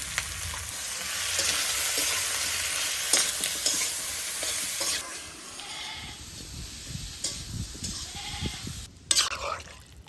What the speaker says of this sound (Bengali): তো কুচানো পেঁয়াজ দিয়ে দিব, অল্প কয়েকটা কাঁচামরিচ দিয়ে দিব, দিয়ে দিব হলুদ গুঁড়ো